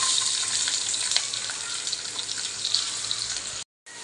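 A steady, loud sizzle of onions frying in hot oil with curry leaves fills the clip, crackling continuously up close before cutting off abruptly.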